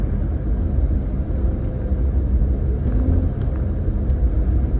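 A 1997 Toyota Corolla with a cold air intake, heard from inside as it drives, a steady low engine rumble and road noise running throughout with no talk.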